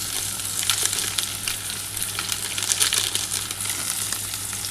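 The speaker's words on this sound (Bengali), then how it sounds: "এবার ভালো করে এটা একটু ভাজা ভাজা হয়ে গেলে সমস্ত মশলা দিয়ে একটু ভেজে নিচ্ছি আগে" Spices with Kashmiri chili powder and a little sugar sizzle and fry steadily in a pan for a Bengali potato-cauliflower curry, a dense continuous crackle heard close up with no talking.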